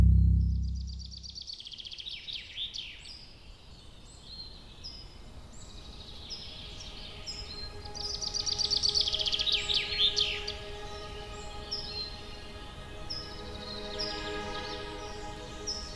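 Birds singing outdoors in the morning in a damp woodland with rustling trees, several thin, bright chirps and trills at moderate distance, one singer swelling louder in the middle, over a quiet background.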